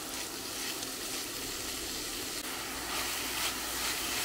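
Minced meat and carrots sizzle and fry steadily in a pan, a continuous soft hiss with no talking.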